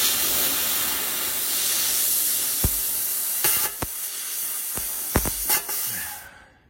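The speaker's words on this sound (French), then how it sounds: "Et là, on va essayer de couper le dessous au plasma." A plasma cutter cutting the underside of a metal piece, heard as a steady loud hiss that runs throughout, broken by several sharp crackling clicks and pops near the end before it cuts off.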